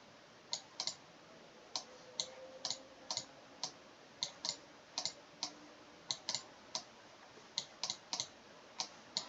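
Crisp, close computer keyboard and mouse clicks in an otherwise quiet room, coming in irregular single and paired taps over several seconds.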